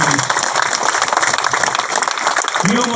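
A crowd at a gathering breaks into loud, sustained applause, a dense wash of clapping with a voice briefly audible near the end.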